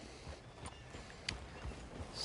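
A horse's hooves clip-clop in Red Dead Redemption 2, a few faint, evenly spaced soft thuds on the ground with no talk.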